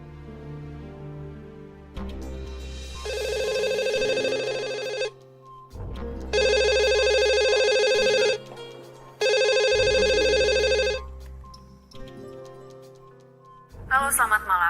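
A telephone rings during an outgoing call to an office: three long, loud, even ringing bursts with short pauses between them, sounding close over a low background hum.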